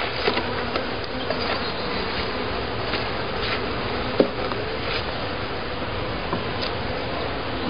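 Honeybees buzz steadily around an open beehive during a spring hive inspection, a dense continuous drone of many wings close by, with one brief knock partway through.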